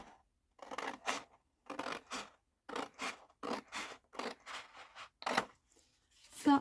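Paper being cut with scissors for a paper cup craft, a series of crisp snipping bursts with short pauses between them, close and fairly quiet with no talking.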